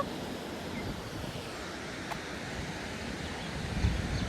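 Water pours from Vanakbori Dam in a constant broad roar, heard from a distance outdoors with some wind buffeting the microphone.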